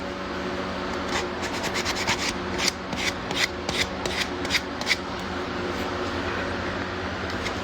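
Coarse 60-grit sandpaper rubs by hand over a carved wooden duck decoy in a series of quick, rhythmic scratchy strokes, close and moderately loud over a steady background hiss.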